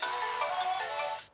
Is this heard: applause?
no